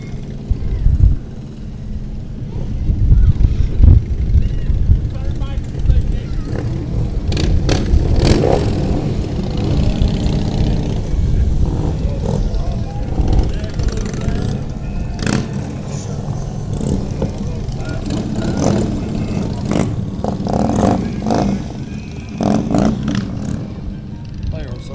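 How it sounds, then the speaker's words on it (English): Motorcycles rolling past in a small-town Christmas parade, a continuous close engine rumble with occasional revs, mixed with crowd noise and people talking nearby. "Oh, here comes some bikes."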